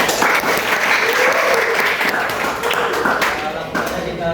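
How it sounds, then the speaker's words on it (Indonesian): A room of people applauding at a school presentation, dense steady clapping that holds loudly and tapers slightly at the end, with voices mixed in. "beri aplaus."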